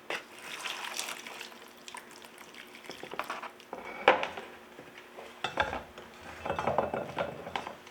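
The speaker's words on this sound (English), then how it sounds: "I'm gonna add some water." Water added to a block of coco coir in a bucket, heard as irregular splashing and sloshing with knocks and scrapes of the container, close and moderately loud, with no talking.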